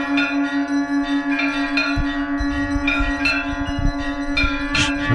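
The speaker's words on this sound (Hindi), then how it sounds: "शंखध्वनि" A conch shell is blown in one long, steady, droning tone through a Hindu temple offering ritual for Ram Lalla, with temple bells struck repeatedly over it.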